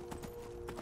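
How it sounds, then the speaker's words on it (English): A horse's hooves clip-clop a few times as it is ridden in the video game Skyrim, set against a steady hum with no talk. "I'm gonna have to do some of this old school Skyrim horse climbing"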